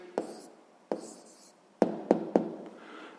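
Pen on paper writing down a math answer, with a handful of sharp taps and scratchy strokes spaced irregularly, close and quiet with no voices.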